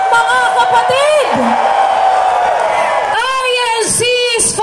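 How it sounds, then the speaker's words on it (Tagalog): A large rally crowd yells and cheers at close range, a loud sustained roar of whoops and shouts that swells again near the end. "Isang malaking hiyawan po, mga kababayan at mga kapatid."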